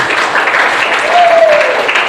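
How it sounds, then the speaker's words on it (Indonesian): Classroom audience applauding a group presentation: loud, close, continuous clapping from many hands forms a steady broadband wash, with a brief voice rising over it midway. "beri tepuk tangan yang meriah untuk kelompok 1"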